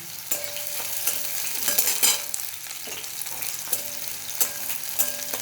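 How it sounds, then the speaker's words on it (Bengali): Chopped onion and halved dried red chillies fry in a pan for a radish-greens dish, a steady sizzle broken by repeated scraping stirs and clinks of the spatula, close and clear with no talking. "এবার ভালো করে একটু ভেজে নিতে হবে"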